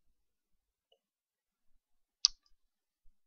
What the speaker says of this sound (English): So I'm going to click this one